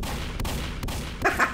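Gunfire in the Garry's Mod video game: a dense, continuous roar of rapid shots lasting over a second, loud and close, with a few brief gaps and no voices.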